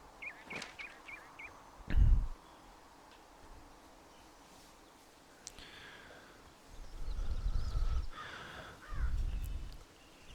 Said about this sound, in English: This game has lots of great ambient sound as well, all the birds and everything.